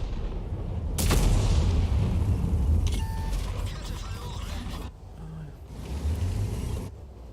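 A heavy tank's main gun fires with a sharp crack in a tank battle video game, followed by a long rumbling boom over a steady engine and battle din, loud and close.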